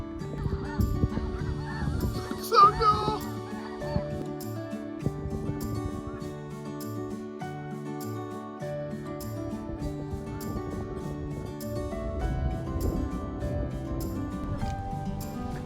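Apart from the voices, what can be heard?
cranes calling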